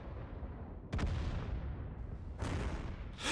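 Tank cannon fire in the video game World of Tanks: a loud booming shot roars and rumbles off, then a second heavy blast follows about a second and a half later, and a third starts near the end.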